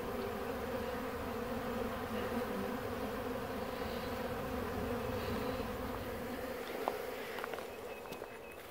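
Honey bees buzz around hives outdoors as they are prepared for winter: a steady, dense drone of many bees close by, holding evenly throughout with only small shifts in loudness.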